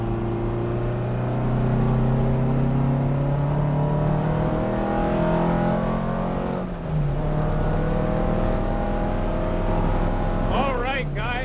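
A Porsche 356 on a race track, its engine droning loud and close with rising and falling revs as it accelerates and shifts, while a voice talks over it.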